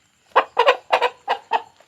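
Chickens clucking close by, five quick rhythmic clucks in a short burst against a quiet background.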